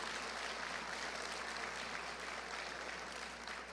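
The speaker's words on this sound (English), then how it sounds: "We can do an applause for that." A school crowd in Jackson, Mississippi applauds during a First Lady's visit, a steady wash of distant clapping from a large audience, even and sustained throughout.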